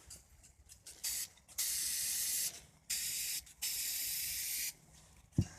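Repeated bursts of spray paint hissing from an aerosol can onto a spinning car rim, several long sprays separated by short pauses, close and steady.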